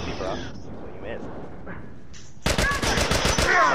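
Rapid bursts of loud gunfire erupt in The Last of Us game after a stretch of quieter background noise, a dense run of close shots.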